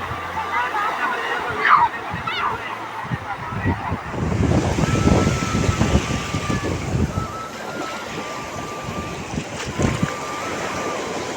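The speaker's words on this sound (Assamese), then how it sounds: "সাগৰ ঢৌ আহি আছে, নামি আছে" Sea waves wash onto the shore at the Gumti River mouth in Dwarka, Gujarat, a continuous rushing surf with gusts of wind buffeting the microphone and faint voices in the background.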